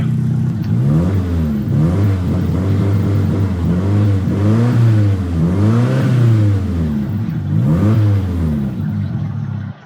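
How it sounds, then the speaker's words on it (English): A car engine with an exhaust leak, in a farming simulator game, revving up and down repeatedly with a rough, raspy, puffing exhaust note, loud and close, no talking. "Sounds like it's got a leak."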